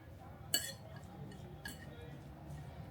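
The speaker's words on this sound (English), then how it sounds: "Let's stir it up." A utensil clinks against a bowl while a grilled chicken salad with dressing is stirred, two faint, close clinks over quiet background.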